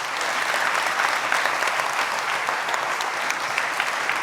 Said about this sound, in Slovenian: dajte jim en velik aplavz